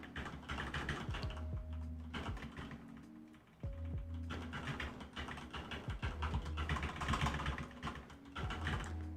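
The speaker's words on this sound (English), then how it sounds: "you probably really hear me just pelting on my keyboard" Rapid, uneven clatter of keys on a computer keyboard, close up, with bursts and short pauses and a low hum underneath.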